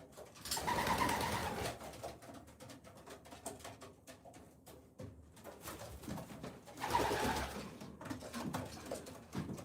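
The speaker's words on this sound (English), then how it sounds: "A vast collection of racing pigeons." Racing pigeons coo in a loft, two swells of soft throaty cooing with fluttering and shuffling in between, close and fairly quiet.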